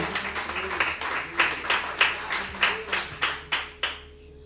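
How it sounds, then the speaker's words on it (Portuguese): A church congregation claps in praise, starting as a blended patter and settling into rhythmic unison claps roughly every third of a second, moderately loud, fading out near the end without any talk. "Aplauda o Senhor com o seu melhor."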